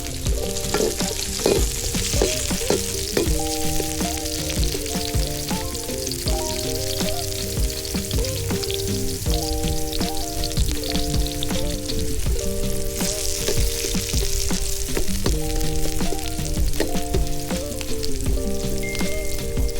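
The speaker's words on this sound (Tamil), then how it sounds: "அடுத்து கறிவேப்பிலை போட போகிறாரு மாமா. அடுத்தது வெங்காயம்." Curry leaves and onions fry in hot oil over an outdoor wood-fired village cooking setup. A steady, loud sizzle runs throughout, with background music playing over it.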